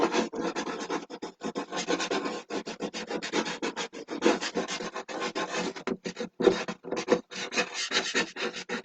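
Sharp tool scratching into layered craft materials on a page, a close run of rapid uneven rasping strokes with tiny gaps, steady and fairly quiet, no talking.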